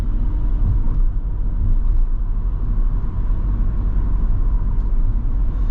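Cars driving along a 30 mph lane in Northenden, a steady close engine and road rumble holding level and loud throughout with no talk.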